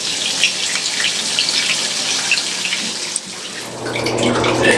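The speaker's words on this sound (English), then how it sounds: "If they want to take a bath, you take this lever right here, and it switches it to the right." A hotel bathtub faucet runs after its lever is switched to bath, a steady loud gush of water splashing into the tub that shifts to a fuller, deeper pour partway through.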